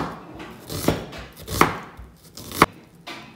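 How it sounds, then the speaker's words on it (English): A knife cuts an onion into thin slices on a board, making four distinct, close chops about a second apart, each a sharp knock over quiet background. "Our onion, I'm just going to cut it into thin slices."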